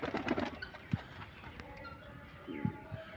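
Pigeons kept by a hobby pigeon fancier give a few low coos, close by and soft, with faint voices and shuffling in the background.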